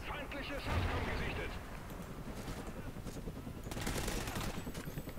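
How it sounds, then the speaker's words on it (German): In Call of Duty Ghosts, a grenade bursts into a heavy rumbling blast, followed by scattered gunfire and a second swell of explosive noise, with someone talking over the action. "Oh mein Gott, Granate."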